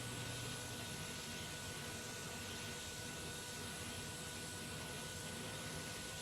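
C160 Transall turboprop engines spooling up in a flight simulator, a dense, steady whine and roar with a faint high tonal line, continuous and even throughout.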